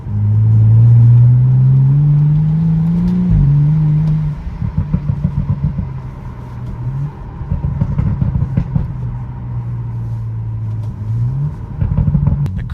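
A BMW F30 with an N55 engine and its exhaust deleted drives by with a loud, deep exhaust drone that climbs steadily under acceleration, then settles into a steadier, rougher cruising rumble with small pops.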